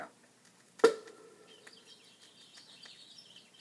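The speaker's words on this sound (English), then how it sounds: "These nightingale's tongues aren't well-seasoned at all. They're still chirping." Thin, high chirping rises from an uncorked bottle of magic nightingale's tongues, a scatter of small twittering calls after a sharp pop-like onset, faint and close in a quiet room.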